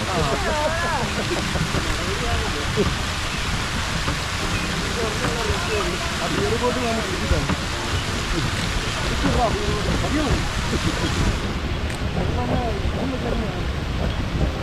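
Water falling at Guna Caves in Kodaikanal makes a steady, dense roar that holds through the whole stretch, with people talking over it.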